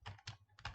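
Computer keyboard keys typed in three quick bursts of clicks while entering a folder name, close and clear, with no talking.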